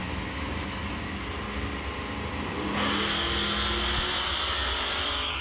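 A Corvette Z06 and a hot rod launch side by side at a street drag race, engines droning steadily before a sharp rise into a louder, higher-pitched roar partway through.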